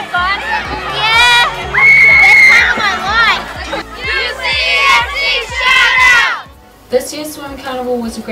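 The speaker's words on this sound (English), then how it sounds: "There was plenty of students cheering on their fellow peers." Students at a school sports carnival cheer and shout loudly in a big crowd, high excited voices rising in waves over several seconds before a short lull and a fresh burst of yelling.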